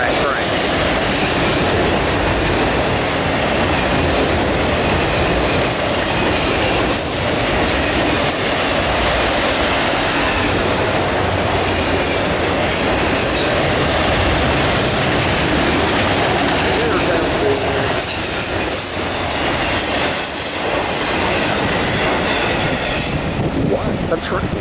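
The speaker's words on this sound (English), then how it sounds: "This thing is a long Autorack train." A long Norfolk Southern autorack freight train rolls past close by, with a steady loud roar of wheels and cars, rhythmic clickety-clack and occasional wheel squeal running unbroken throughout.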